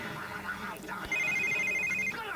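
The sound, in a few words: telephone ringing in video game The Sims 3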